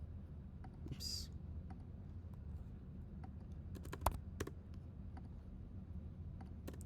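Soft, close keystrokes on a computer keyboard during data entry in Excel come in short irregular bursts with a few sharper clicks over a faint steady background hum.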